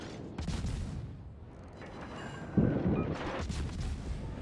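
Deep booming impacts of torpedo hits on a warship in World of Warships, a rumbling blast early on and a heavier thud-laden explosion near the end, fairly close and loud, with no speech.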